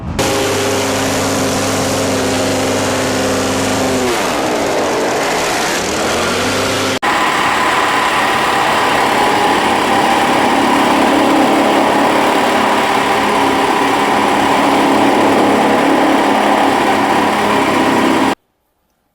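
A Farata chaff cutter machine runs continuously, a loud, close, steady engine-like drone with a brief change in pitch partway before settling into a constant mechanical roar, no talking.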